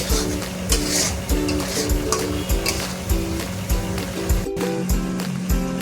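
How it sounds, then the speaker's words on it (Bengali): Spice paste frying in a pan is stirred in steady repeated strokes over a continuous sizzle, with a low rhythmic hum running underneath throughout. "মশলাটাকে ভালো করে কষিয়ে নিচ্ছি।"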